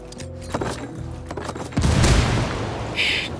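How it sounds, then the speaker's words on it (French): A loud grenade explosion in Ghost Recon Wildlands bursts out partway through, a deep boom with a rumbling tail, following scattered gunfire and thuds; no talking. "L'ennemi a entendu l'explosion."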